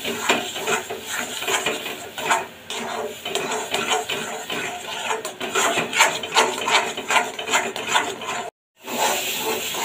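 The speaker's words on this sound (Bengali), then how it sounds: "এবার গ্যাসটা লো করে দিয়ে খুব সুন্দরভাবে নেড়ে নেড়ে শুকনো শুকনো একটা মন্ড মতন করে ফেলবো" Young jackfruit paste is stirred in a pan over low gas, making a busy, close run of scraping and clattering against the metal. The noise breaks off briefly near the end, then resumes.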